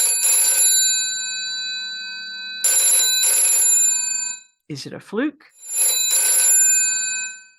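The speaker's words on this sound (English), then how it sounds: "some old broken telephone in your house that you thought was probably obsolete suddenly started ringing" An old telephone bell rings in three loud bursts separated by pauses, with a person speaking briefly between the second and third rings.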